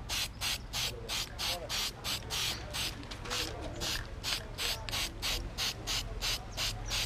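Aerosol spray can laying a Plasti Dip coat on a car wheel outdoors, heard as a steady series of close, loud hissing bursts in a regular pulsing rhythm, with no talk.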